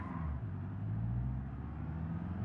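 A video game car engine on a driving simulator hums steadily at low pitch with a rumbling drone, moderately quiet and continuous, no voices over it.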